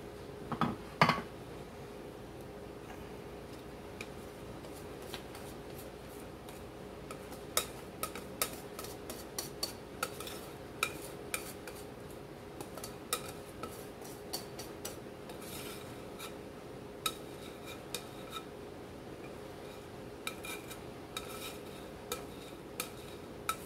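Peach pie cake batter spread in a baking dish, soft close scraping and rubbing with scattered light ticks of a utensil against the dish, steady and quiet without talk.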